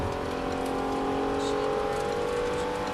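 A car engine accelerates steadily as the driver flees a police traffic stop, a loud continuous drone with strong tonal hum over road noise.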